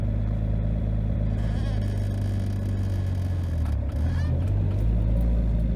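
A 2JZ-powered car fitted with a Tilton ST246 clutch pulls away with no throttle, its engine a loud, steady low rumble close by that dips briefly near the end and then carries on.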